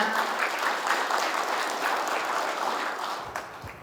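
Sustained audience applause fills a hall at the annual general meeting of the Korea Specialty Contractors Association's Gyeongbuk chapter. Dense, steady clapping from many hands tapers slightly toward the end.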